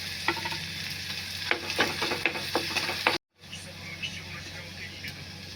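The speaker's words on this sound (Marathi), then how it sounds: "कांदा खोबऱ्याचं वाटण टाकायचं. बघा, थोडा वेळ असं परतून घ्यायचं." An onion and coconut masala paste sizzles and fries steadily in a pan while being stirred, with scraping strokes of the spoon up close; the sizzle cuts out briefly, then carries on.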